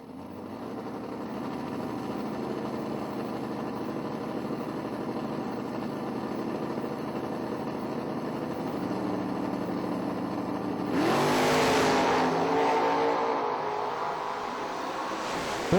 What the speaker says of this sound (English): His Nova against the strike first Camaro of Clayton Roberts, dialed 547.